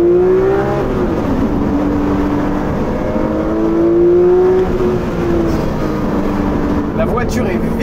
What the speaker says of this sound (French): le flat 6, il hurle.